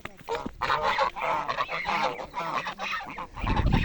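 A large flock of geese at Alta Dighi, a pond, honks and cackles in overlapping bursts at close range, with a faint voice partly under the calls.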